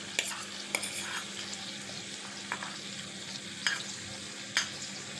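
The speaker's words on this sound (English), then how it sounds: "We add the minced garlic." Minced garlic fries in a pan with a soft, steady sizzle under repeated scraping strokes of a spatula at close range, with no talk.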